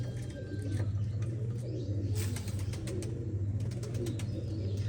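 Pigeons cooing in a loft of collected fancy birds, low throaty rhythmic coos repeating steadily up close, with occasional faint chirps and a brief burst of wing flutter.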